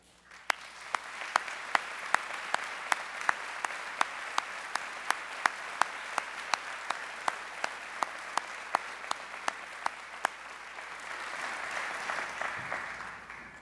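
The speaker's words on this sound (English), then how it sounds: "I invite the audience to join me in a round of applause for SCF's finest, our faculty." Audience applause for college faculty at a spring commencement ceremony, a dense wash of clapping in a large venue with sharp, evenly spaced close claps standing out, building steadily and then softening toward the end.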